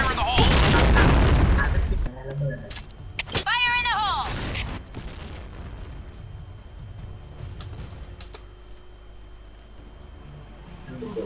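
A video game grenade explosion: a heavy booming blast opens, followed by a sharp crack and a rising whistling tone, then a quieter rumbling tail.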